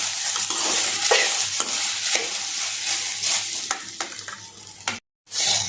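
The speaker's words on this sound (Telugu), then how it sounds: "ఈ గోల్డెన్ కలర్లో వచ్చేదాకా వేయించుకోవాలి" Okra frying until golden in a pan, a steady close sizzle with repeated spatula stirs and scrapes, loud and continuous, with a brief dropout near the end and no voices.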